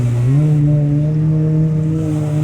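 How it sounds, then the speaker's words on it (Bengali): A speedboat engine runs at sea off Ajman, a steady, close humming drone that rises slightly in pitch at the start and then holds even. "আর এদিকে দেখুন স্পিড বোটটা"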